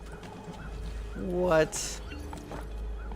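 Horse riding in the video game Assassin's Creed 2, with a brief whinny and hoof sounds rising over steady game background noise, while a person speaks briefly.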